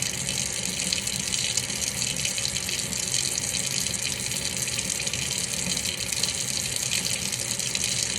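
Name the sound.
tap water running while washing hands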